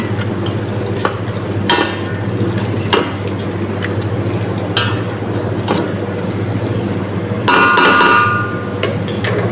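Spices, lemon and chicken masala being stirred through in a pan, a steady low frying hiss under repeated scrapes and knocks of the utensil against the pan, with a brief louder sizzling burst near the end.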